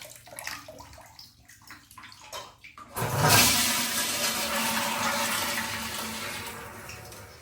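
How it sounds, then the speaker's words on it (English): A hotel bathtub faucet is turned on and roars loudly with a steady, forceful rush of running water that fills the room after a few quieter moments of bathroom noise. "When you turned on the bathtub, the faucet was extremely loud"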